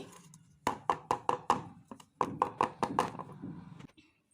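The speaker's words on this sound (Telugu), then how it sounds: "ఇలా క్రీమ్ అంతా వేసుకున్న తర్వాత ఒకసారి ఇలా ఎయిర్ గ్యాప్ లేకుండా ఇలా కొట్టుకోవాలండి" A cream-filled chocolate cake tin rapped against a surface, two bursts of about five firm, evenly spaced thuds each, close and fairly loud with no voices.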